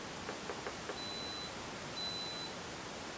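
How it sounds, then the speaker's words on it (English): A Polaroid Cube helmet camera beeping as it starts recording, two evenly spaced high electronic tones after a few soft clicks, faint over steady background hiss. "it's beeping, and I believe that's recording."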